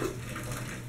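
A running water tap in a home, steady rushing flow heard close for a brief moment as it is being turned off.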